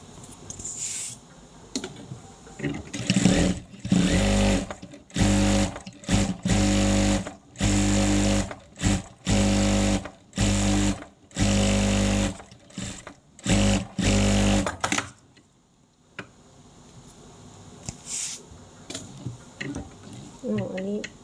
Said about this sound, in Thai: เราก็ต้องเย็บลงมาทางเดียวกันกับทางที่เราเรียงนะคะ